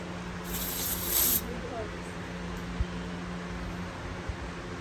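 Cleaner hisses from a spray can onto a part of a burned-out DR field and brush mower in one sharp burst of about a second, followed by a faint second spritz over low background hum and a few knocks.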